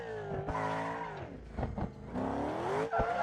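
Car tires squealing during a failed drift attempt in BeamNG, a loud close engine whine with rising and falling revs and sharp bursts of tire screech and skid across a few seconds.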